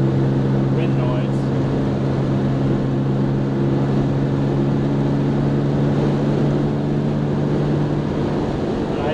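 Steady roar of wind and engine drone inside a Jaguar E-Type coupe cruising country backroads with both vent wings open, a constant loud rumble that never lets up.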